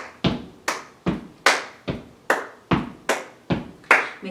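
A steady rhythm of sharp claps and thumping stomps, about two hits per second, crisp and close with no voices.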